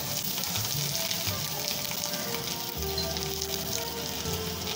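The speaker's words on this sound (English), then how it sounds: "We just pan fry." Lobster pan frying in a chef's kitchen, a steady dense sizzle running throughout at close range, with a low hum joining partway through.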